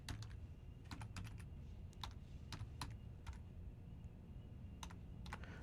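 Someone types a networking command on a computer keyboard, giving bursts of clicky keystrokes in short clusters separated by pauses, close and steady over low room hum, with no talking.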